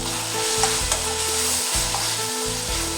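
Tomatoes with salt sautéing in a pan for chicken gravy, a loud close sizzle with rhythmic stirring scrapes that rise and fall several times, no talk.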